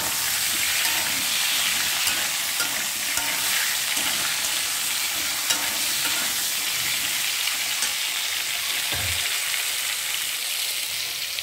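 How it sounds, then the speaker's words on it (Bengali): Potatoes frying in a pan at home, with a dense, unbroken hissing sizzle held at an even level for the whole stretch and only faint stirring underneath, no speech. "আলু ফ্রাই হচ্ছে"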